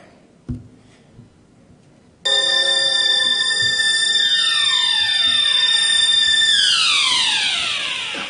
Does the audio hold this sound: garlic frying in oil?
no